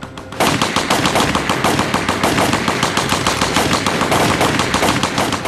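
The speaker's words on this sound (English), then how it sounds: "and then the shooting starts" Loud, sustained machine gun fire in a reenactment of a gangland massacre, rapid continuous bursts starting abruptly and continuing without pause, close and dominant.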